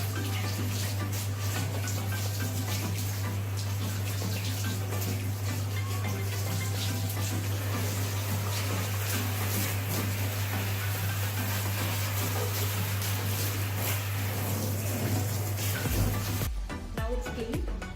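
An AC filter is washed under a running tap. The water runs steadily and close for about sixteen seconds under a low hum, then stops near the end.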